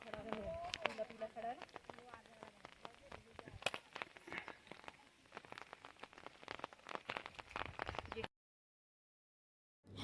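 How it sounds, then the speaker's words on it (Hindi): Raindrops patter in irregular taps and drips close by on a rainy hillside, a scattered rhythm of small hits on a surface, ending abruptly in silence. "टप टप गिरती हुई इन बारिश की बूंदों को सुनने के बाद"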